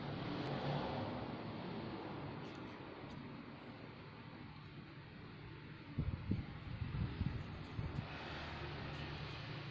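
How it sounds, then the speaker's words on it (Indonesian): Constant car and motorbike traffic noise hums in the background, with a nearby vehicle passing and rumbling more loudly toward the middle; no one speaks. "karena ada banyak suara mobil dan motor gitu"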